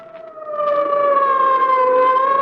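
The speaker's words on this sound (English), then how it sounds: "the wild shriek of a siren as an ambulance catapults through the city's darkened streets" An ambulance siren wails steadily through darkened city streets at night, a loud continuous rising-and-falling tone that swells in the first half-second and then holds alone with no voices.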